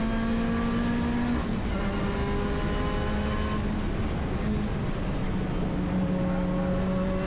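A race car corners on the Brands Hatch circuit during a trackday, its engine droning loud and steady from inside the car with pitch sliding through the bend, continuous and without voices.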